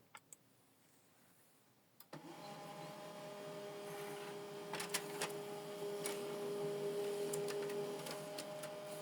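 An HP LaserJet M140WE printer starts up with a sharp click and then runs a test page, a steady mechanical whir with a faint tonal hum and occasional ticks and clacks as paper feeds through.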